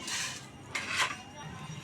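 A pot of cooked palm fruit dough for pitha is set down into another oiled vessel, giving two short, faint clattering knocks of metal cookware in a quiet kitchen.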